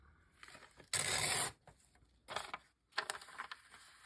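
Pattern paper is ripped once in a loud, abrupt tear lasting about half a second. Softer crinkling and handling rustles follow, ending in a brief scrape.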